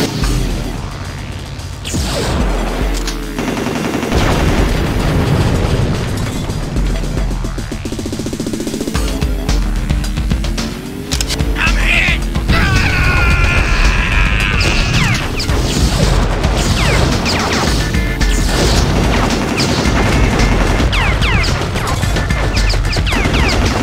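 Cannons boom and explosions crash and whoosh almost continuously in the 1999 PC combat game Redline during an ambush, loud and dense with layered impacts and rumbling mechanical noise.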